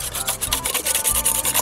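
Cream being whisked by hand with a wire whisk, a fast rhythmic swishing and scraping of strokes against the bowl, close and continuous, with no voices.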